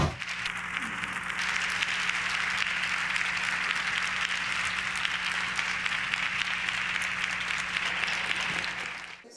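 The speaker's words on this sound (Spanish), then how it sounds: "Al concluir, el Pleno del Senado aplaudió la decisión de la michoacana." Members of the Senate in plenary session applaud, a steady, full round of clapping from a large room that holds evenly for several seconds, with a low hum beneath.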